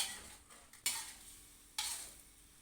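A spoon stirs oyster sauce and green seasoning sauce together in a pan, making two brief scraping sweeps over a quiet, faint sizzle.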